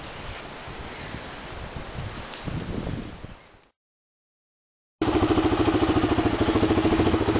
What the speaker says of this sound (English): The bike is running now.